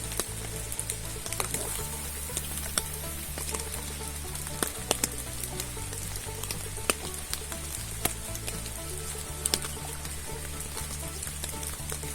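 Steady rain patters on a surface at night beside a feeder fishing spot on the water, a dense close hiss with scattered sharper drops and no voices.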